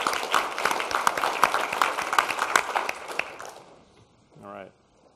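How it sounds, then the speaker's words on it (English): Workshop attendees applaud in a conference room, a loud spell of clapping with crisp individual claps that dies away after about three and a half seconds, followed by a brief voice. "Maybe a round of applause for all of you."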